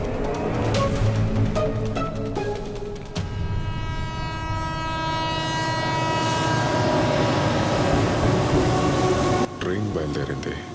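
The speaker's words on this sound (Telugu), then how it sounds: "ట్రైన్ బయలుదేరింది" A movie scene where a train pulls away: loud rolling rail noise and a sustained horn blast fill the scene, with the rumble building steadily and some voices mixed in.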